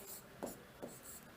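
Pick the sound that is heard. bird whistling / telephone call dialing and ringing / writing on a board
writing on a board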